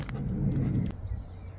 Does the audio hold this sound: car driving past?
yes